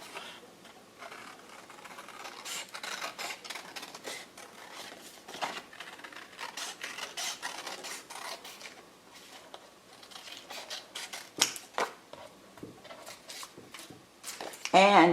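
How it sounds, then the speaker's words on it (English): Scissors snipping a paper circle out of card for a spiral card, a series of short, close crisp cuts and rustles of paper running irregularly throughout, with a voice speaking over parts of it. "And you want to cut out this circle."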